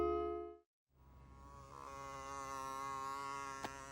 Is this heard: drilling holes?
no